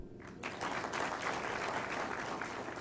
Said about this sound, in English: And we must clap for them.